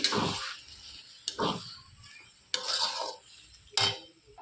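Rice flour stirred into a pot of chickpea and greens ghonto, making four brief, close scraping strokes of a spoon against the pot with short pauses between them.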